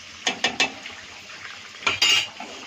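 Spatula scraping and stirring egg bhaji cooked with ghee in a pan: a few sharp metallic scrapes near the start, then a pause and a louder burst of clattering strokes, close and alone.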